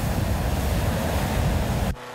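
Strong, gusty wind at Dapeng Bay roars across the microphone in a loud, unbroken rush, mixed with a surf-like wash, before cutting off abruptly near the end.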